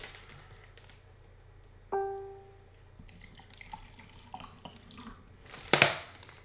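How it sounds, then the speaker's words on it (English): Distilled water runs into a spray bottle, filling it toward the top: a short trickle and splash among small clinks of handling, quiet and close, ending in a louder rushing pour. "I'm just going to fill it up with distilled water all the way to the top, just leaving a little room for the spout"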